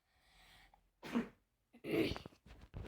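A person sneezes twice, close and clear, the two sharp bursts separated by a short breath and a pause.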